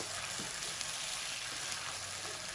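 Chicken deep frying in hot oil for a restaurant-style reshmi handi, giving a steady, even sizzle and bubbling hiss that holds at a constant level throughout, with no voices.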